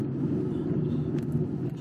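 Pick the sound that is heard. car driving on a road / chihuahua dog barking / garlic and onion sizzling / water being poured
car driving on a road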